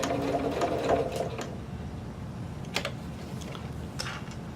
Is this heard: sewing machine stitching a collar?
yes